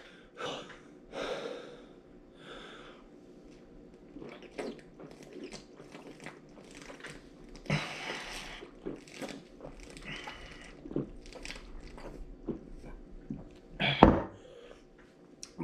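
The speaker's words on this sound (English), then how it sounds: "When you're breathing from a bottle, you're breathing out through your nose." Beer chugged quickly from a bottle, with gulping swallows and nasal breathing, close and fairly soft, punctuated by a sharp clink or crunch near the end; no talk.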